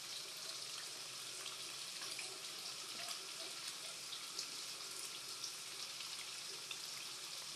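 Tap water runs into a cooking pot for chicken tinola, a steady hissing stream that stays even and fairly soft throughout with no talk over it.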